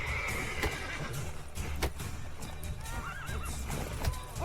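Horses neigh and whinny in The Witcher 3 video game, loud whinnies rising above a bed of clip-clopping hooves and game ambience, with no talk over them.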